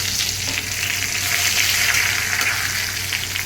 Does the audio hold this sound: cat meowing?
no